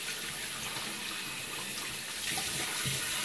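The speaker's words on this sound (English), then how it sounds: "Washing my hands" Tap water runs steadily from a faucet into a sink during hand washing, a close, continuous broadband splash with no speech.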